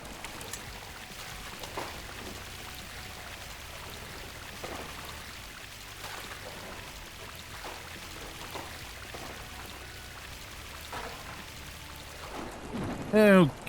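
Water in the DrainSim video game pours and flows out of a forest area into the street, a steady rushing wash running throughout, with a brief louder burst at the very end.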